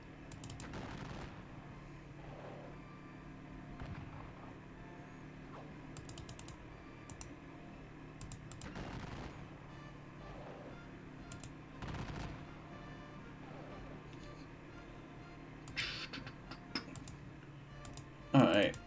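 Sporadic gunfire in a Battle of Aspern-Essling strategy game, a few sharp bursts spread out over steady keyboard tapping and a low background hum.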